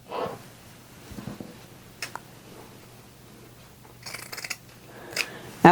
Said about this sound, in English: you could cut it down with regular scissors if you wanted to